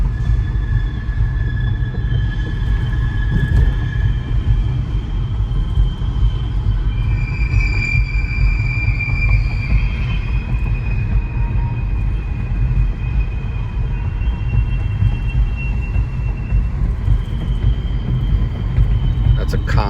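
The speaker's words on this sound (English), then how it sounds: "The train." A train rumbles past with metallic wheel squeals rising and fading over a steady heavy roar, while someone speaks over the noise.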